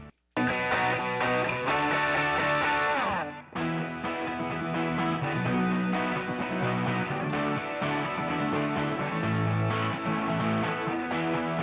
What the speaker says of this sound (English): let's just hear what the guitars sound like with that reverb on